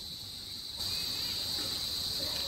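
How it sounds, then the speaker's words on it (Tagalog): A steady, high-pitched chorus of crickets drones continuously in a front garden at sunset, fairly faint, with no other sounds standing out. "Naririnig niyo yung mga kuliglig."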